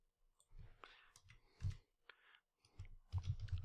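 Quiet, close computer mouse clicks and light keyboard tapping come in short irregular bursts while a form is filled in, soft and crisp with brief pauses between groups of clicks.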